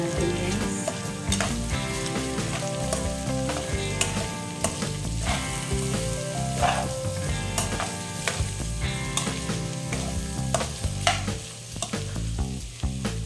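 Minced chicken, potatoes and carrots being stirred in a frying pan, with steady sizzling and frying under repeated scraping and clattering of the spoon against the pan, loud and close throughout without pause.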